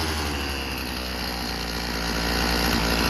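A Craftsman chainsaw with a repaired carburetor adapter leak settles back to a steady idle after revving high. Its engine drone runs continuous and close, holding one even level throughout with no talking.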